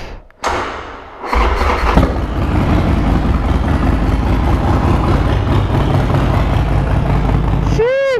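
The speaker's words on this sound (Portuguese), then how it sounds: "Eu nem sei se vocês me conseguem ouvir com a moto a trabalhar." Harley-Davidson 72 motorcycle engine starting up, a thud and crank followed by a loud, steady close-up idle with rumbling low thumps, ending with a rising electronic chirp.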